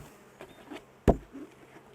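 Honey bees shaken back into a hive give a faint, scattered buzzing, broken by one sharp thump midway as they drop in.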